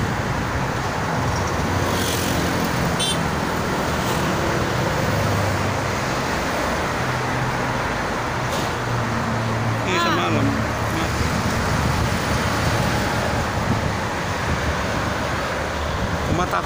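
Steady rumble of slow traffic crawling through a jam on the Jakarta-Cikampek toll road, a continuous broadband drone of engines and tyres with passing vehicles, heard from inside a car with occasional voices over it.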